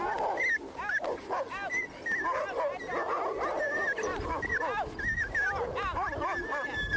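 An Inuit dog on wild northern land barks, yips and whimpers excitedly, with rapid rising and falling high-pitched cries close by, mixed with eager barks throughout.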